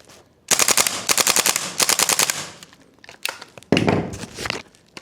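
A WellPro AK12 gas blowback airsoft rifle fires several loud, rapid full-auto bursts up close, each a fast rattling string of shots, with short pauses between strings and a longer final burst.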